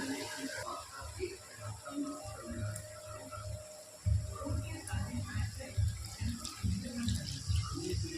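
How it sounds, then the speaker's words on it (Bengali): Warm water pours into a cooking pan of dhoka dalna, a lentil-cake curry, with a soft trickle that swells into a fuller, splashing stream about halfway through. "এতে আমি হালকা গরম জল দিয়ে দিলাম"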